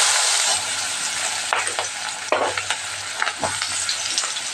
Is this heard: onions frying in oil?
yes